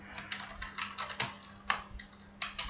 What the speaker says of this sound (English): Now go ahead and type your real name